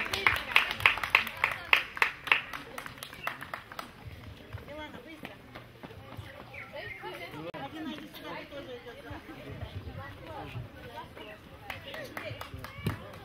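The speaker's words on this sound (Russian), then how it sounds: "Хлопаем, хлопаем." Audience clapping at an outdoor Children's Day celebration in a village, a burst of claps at the start fading into a busy hum of crowd chatter and talking.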